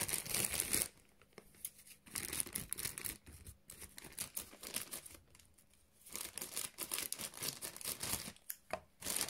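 Close, crackling bursts of thick paper tearing and crinkling, coming in irregular spurts over several seconds with brief pauses between.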